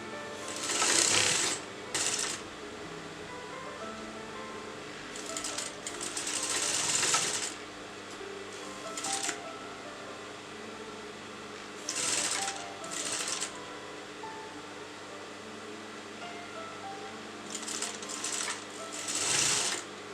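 A sewing machine stitches a fancy kurta neckline in several short bursts of rapid mechanical clatter, separated by quiet pauses, with faint background hum between runs.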